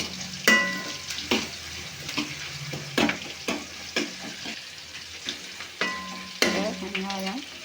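Onions and curry leaves sautéing in a pan for radish sambar, a soft sizzle broken by repeated scraping stirs of a spoon, close by.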